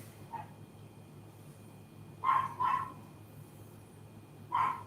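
A dog barks in the distance, a few sharp yaps scattered over quiet background hum, including a quick double bark.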